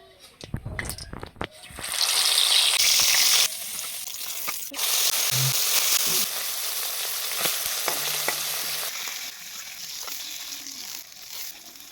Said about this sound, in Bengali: মাছ ভাজার সময় সবসময় লক্ষ্য করবেন মাছের মুড়োগুলো আগে ভেজে নেওয়ার